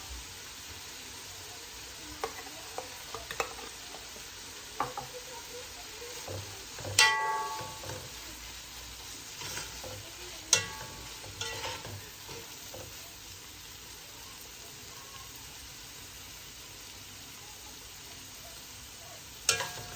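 Stuffed bell peppers with two spoonfuls of tomato paste fry in a pan, giving a steady, soft sizzle broken by occasional sharp clicks and scrapes of stirring, with no talking.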